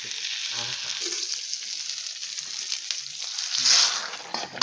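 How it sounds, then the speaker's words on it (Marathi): Hot oil poured over garlic on a traditional wood-fired clay stove, a tempering for a tribal vegetable dish, hissing in a steady broad sizzle that swells briefly near the end, close and fairly loud with no talk. "वरतून लसण्या टाकवल्या आणि आता त्याच्यावर तेल आणि एकच नंबर फोडणी बस द्या"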